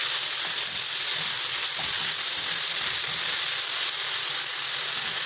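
Tomatoes fry in a pan with onions and garlic, making a loud, continuous hissing sizzle with no pauses and no voices.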